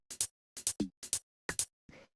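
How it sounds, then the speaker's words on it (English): A techno drum rack plays a sparse, dry percussion pattern of short clicky hits in pairs, with a tonal knock and a softer noisy hit at the end, loud and close with silence between. "So this is just playing a bunch of percussion."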